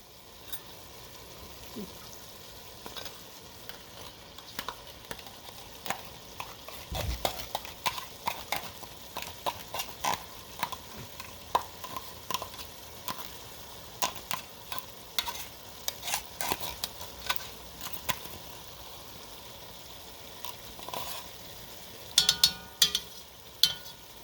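Tomato paste cooking in a pan for shepherd's pie: a low sizzle runs under frequent irregular scraping and knocking strokes from stirring, close by and moderately loud, with no speech.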